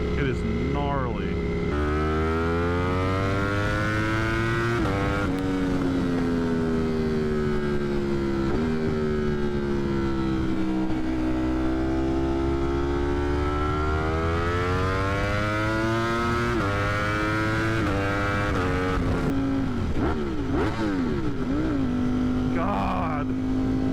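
A 200+ horsepower motorcycle with an aftermarket exhaust revs hard and steadily under way, engine pitch sweeping up and down through gear shifts with crackles near the end, loud and continuous throughout.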